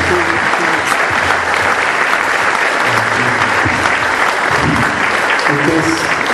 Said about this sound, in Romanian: Să-l aplaudăm și pentru aceasta.